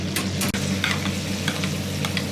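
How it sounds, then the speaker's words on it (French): Asparagus finishing in a hot pan, sizzling and frying steadily up close, with a few scraping stirs breaking through the continuous crackle. "Là, on finit de cuire les asperges."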